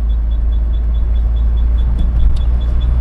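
A Jaguar XJ Series 1 drives over uneven road with a steady low rumble, rolling along quietly, smooth and even, with a faint repeating high tick in the background.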